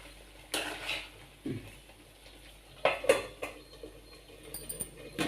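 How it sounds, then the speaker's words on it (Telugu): A lid set down on a cooking pot gives a few close metallic clanks and knocks, spaced apart, with quiet kitchen background and no talking. "కొంచెం మూత పెట్టాలి"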